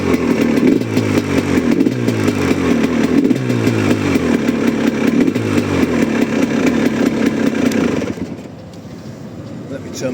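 A GPX motorcycle engine with the choke on runs at a steady, loud, close idle, its rough thrumming pulse continuing throughout before dropping slightly near the end, with someone talking over it.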